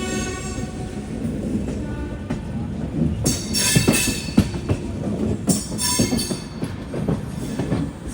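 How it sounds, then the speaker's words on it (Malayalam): A train rolls into Madurai Junction with a rumbling roar, rhythmic wheel clatter and brief squeals of brakes, loud and steady from start to finish with no talk. "6:05 ട്രെയിൻ ഇതാ മധുരൈ ജംഗ്ഷനിലേക്ക് എത്തുകയാണ്"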